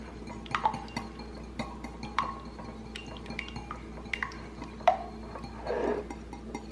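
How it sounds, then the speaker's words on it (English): A utensil clinks and scrapes against a bowl, mixing seasoning for Hot Cheeto onion rings, with intermittent close knocks and a brief wet stirring swirl near the end. A faint hum sits underneath. "And then we're just mixing it together."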